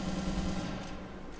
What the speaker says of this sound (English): Okay, this is SMG, I think.